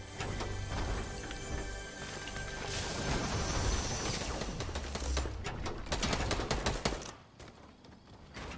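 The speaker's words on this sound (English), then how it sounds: "Is that you shooting?" Gunfire in Fortnite while looting a building, heard as a fast rattling string of shots that builds toward the end and then cuts off. It is moderately loud, and no voice is heard over it.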